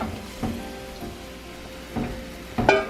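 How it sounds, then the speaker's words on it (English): Fish curry gravy in a pot bubbles and sizzles at a gentle boil, with soft pops from time to time and a sharper bubbling burst near the end. "So you can see now it's boiling."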